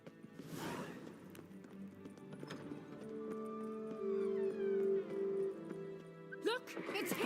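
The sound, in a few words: horse hooves in The Witcher 3 video game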